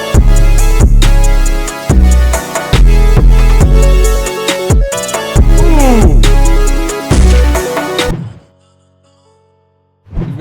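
A bright saw wave synth melody with a harsh, piercing high end, played loud over punchy low thumping beats in choppy repeated phrases, cutting to near silence near the end.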